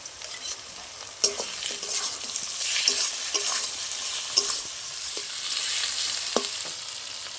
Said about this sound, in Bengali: এবার আমি কেটে রাখা টমেটো দিয়ে দেবো একটা লঙ্কা ছিঁড়ে রেখেছি দিয়ে দেবো